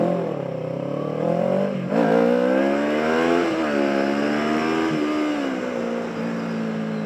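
Loud motorcycle on a street in Hsinchu accelerating past nearby, engine rising in pitch through the gears with brief dips at each shift, sustained and close, no talking.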